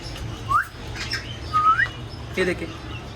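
Several short pigeon calls and squawks ring out over a low background hum, scattered across a few seconds with a faint voice underneath.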